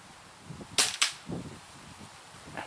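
Spring air rifles fire at an outdoor range: two sharp, close cracks in quick succession, then softer thuds and a faint later snap.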